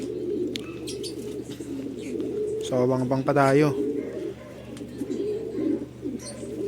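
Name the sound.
pigeons cooing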